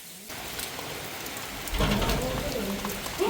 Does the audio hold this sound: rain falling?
yes